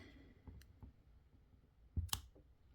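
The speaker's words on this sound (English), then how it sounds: "Then we take our LED strip and cut it." An LED strip being cut for cabinet lighting, heard as a couple of soft clicks followed by one sharp, close snip against a quiet room.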